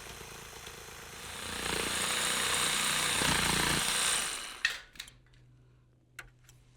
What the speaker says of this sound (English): insert the blade of a jigsaw,